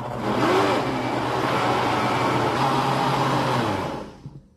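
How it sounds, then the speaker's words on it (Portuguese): Kitchen blender whirring as it mixes banana pudding batter with milk, a loud steady motor drone with a brief rising pitch at the start, running evenly before cutting off near the end. "E agora nós vamos bater por aproximadamente 3 minutinhos, tá? Até ficar tudo bem homogêneo."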